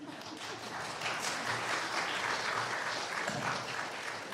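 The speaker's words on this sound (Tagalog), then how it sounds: "Ganyan pumalakpak ng mga Pilipino." Filipino audience applauding at a Christmas choral event in Pampanga, a steady wash of many hands clapping throughout, moderately loud and even with no talk over it.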